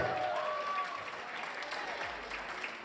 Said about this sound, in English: have a tremendous round of applause, ladies and gentlemen